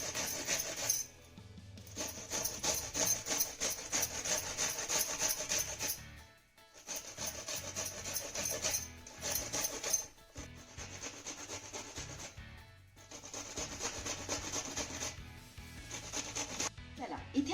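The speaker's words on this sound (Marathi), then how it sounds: "आपली भेंडी ना मस्त अशी किसून झालेली आहे" Okra (bhindi) being grated on a kitchen grater: a steady, close rasping rub in long continuous runs broken by brief pauses, fairly loud, with no speech.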